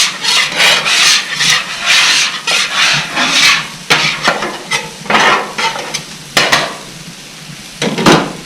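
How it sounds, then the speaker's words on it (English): A dough scraper pushes across a hot griddle while teriyaki beef cooks, giving repeated loud rasping scrapes in uneven strokes with short pauses between them. "I like to use a dough scraper to scrape my griddle"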